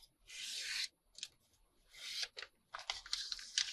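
A sheet of altered paper is folded by hand, with bursts of crisp, crackling paper rubbing and creasing separated by short silences, close and fairly quiet.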